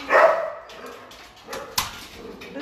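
A dog at an animal shelter gives a loud bark at the start, followed by quieter yips and a sharp short bark, fairly close and alone with no talk.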